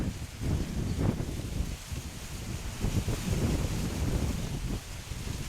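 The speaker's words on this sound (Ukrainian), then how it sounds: "Вітер сьогодні сильнуватий." Strong wind buffets the microphone with loud, gusty low rumbling that rises and falls throughout, with no one talking.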